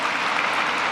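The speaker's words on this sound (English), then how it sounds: "a round of applause for that" A short burst of steady crowd applause at a university commencement ceremony, dense and even throughout with no voices.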